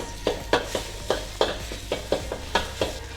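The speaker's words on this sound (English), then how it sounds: "So in with our paste that we've made, and just let that fry off, start to release the aromatics" Garlic paste frying in a hot pan, a steady low sizzle broken by regular clinks and scrapes of a utensil stirring against the pan about every quarter second, close and alone with no talk.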